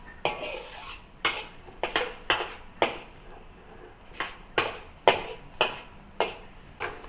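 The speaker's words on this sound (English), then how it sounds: "you use a wok spatula to break it into small pieces" A metal wok spatula scrapes and clanks against a wok, breaking scrambled egg into small pieces in a steady series of about a dozen sharp strokes, close and clear with no talk.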